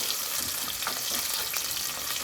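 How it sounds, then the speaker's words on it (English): Onion and pepper sizzle steadily in hot oil in a pot for a fresh tilapia soup, a close, even frying hiss with no talk. "we let it fry for a while."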